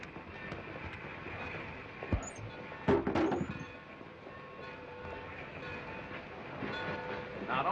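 A train rolls along steadily at moderate distance in an old 1951 film scene, with a rumbling, rattling carriage sound and a couple of brief louder clanks partway through, no speech.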